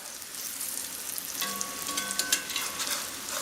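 Squash blossoms frying in a cast iron pan, crackling and sizzling steadily up close, with the sputtering growing busier and sharper partway through.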